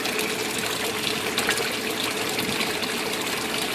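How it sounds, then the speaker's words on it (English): A water pump running in a bucket for a crawfish hydroponic tank, rearranged to push more oxygen into the water, makes a steady, close, continuous gushing and bubbling wash with no talk over it. "Done a little rearranging to my pump, get a little more oxygen in there."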